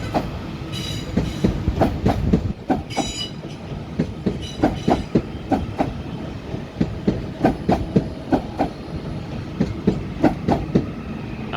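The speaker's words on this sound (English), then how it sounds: "And also arriving over there, and we've got 2 trains arriving." A Class 397 train pulls into Manchester Piccadilly station, its wheels giving a rhythmic clickety-clack of repeated rail-joint knocks at moderate level, with no talk.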